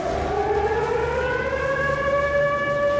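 In Gratuitous Tank Battles, an air raid siren winds upward in pitch and then holds a loud, steady wail for several seconds, alone over a low rumble of game ambience.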